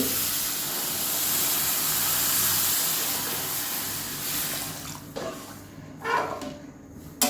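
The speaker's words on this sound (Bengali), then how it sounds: "এবারে দুধটাকে আমি ঢেলে দেব কড়াইয়ের মধ্যে।" Thickened milk poured into a wok for payesh makes a steady hiss and splash of liquid that later breaks into a few separate splashes, heard close up with no talk.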